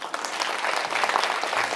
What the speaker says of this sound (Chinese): 我们给玉文鼓掌一下。